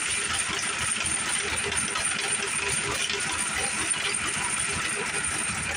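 A small gas engine driving a metal lathe runs steadily and sounds a little rough, giving a continuous close hiss and rattle with no clear pauses.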